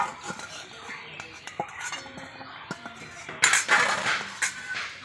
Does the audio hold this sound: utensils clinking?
yes